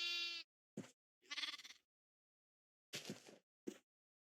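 Sheep in the Minecraft video game bleat several times in short separate calls, clear and isolated against silence, with a couple of brief soft clicks between them.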